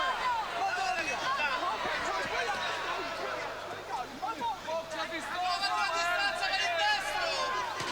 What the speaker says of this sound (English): the Italian crowd here getting quite het up at all this